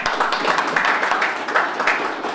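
Warm applause from a National Assembly conference audience on the bio industry, a steady, moderately loud patter of many hands clapping without pause throughout.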